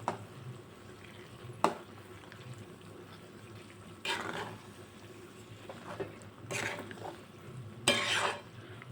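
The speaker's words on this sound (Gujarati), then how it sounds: "આપણું ચીઝ પણ મેલ્ટ થઈ ગયું છે એટલે આપણે બધું જ મિક્સ કરી લઈશું" Pasta with melted cheese stirred in a pan makes quiet, close sounds: a sharp utensil tap, then a few short scraping and mixing bursts over a faint simmering background, with no talking.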